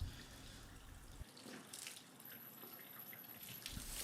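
Water rinses a Mercedes CL63 AMG during a car wash, a steady close hiss of spray and running water lasting the whole short clip.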